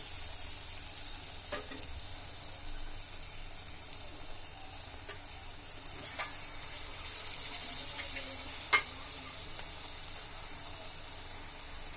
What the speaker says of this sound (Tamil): இது அப்படியே எடுத்து எண்ணெயில் போட்டு பொரிச்சு எடுக்கணும்